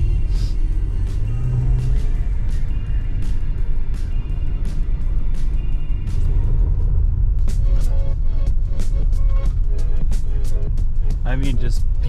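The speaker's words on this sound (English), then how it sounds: "it is sketchy driving in the snow when you've never driven in the snow" A car rolls steadily over icy, snowy roads in Colorado with a constant low engine and tyre rumble throughout, plus occasional sharp ticks and clicks, while a voice talks over it.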